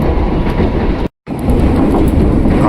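A KRL electric commuter train rumbles steadily along the tracks at close range from Tanah Abang toward Palmerah station, Jakarta, with a brief drop to near silence partway through before the loud rolling noise resumes.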